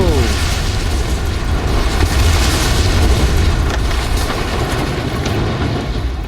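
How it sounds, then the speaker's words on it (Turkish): Dense, continuous rumbling bomb explosions and booms in Hitman: Absolution, loud and close, blending into one sustained roar. "Oğlum çok kötü bombalar patladı."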